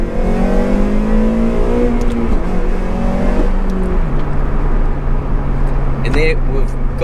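A 2007 Honda Civic Type R FN2 accelerating hard as VTEC kicks in, the engine note climbing steadily in pitch through the gears from inside the cabin, loud and continuous with a brief shift midway.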